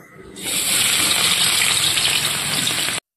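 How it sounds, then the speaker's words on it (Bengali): Carrot strips and beans dropped into hot white oil, a sudden loud hiss that settles into steady, bright sizzling, up close, then cuts off. "এই গাজর আর বিন এটা আমি আগে ভেজে নেব।"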